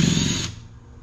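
A power drill spins out Allen head screws on a Can-Am Defender, a close, loud whirring burst that runs for about half a second, then winds down and fades.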